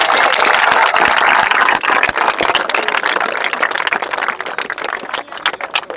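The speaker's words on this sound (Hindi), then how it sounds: "उन सबके लिए भी मैं चाहता हूं आप जोरदार ताली बजाइए" Applause from an audience at a Rotary organ donation event with students in Meerut, heard as loud, dense clapping that starts strong and gradually thins out over several seconds.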